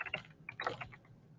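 Typing on a computer keyboard, a short quiet burst of a few close key clicks with an irregular rhythm.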